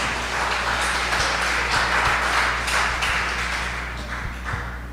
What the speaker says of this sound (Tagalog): Isa munang malakas na palakpak sa Panginoon.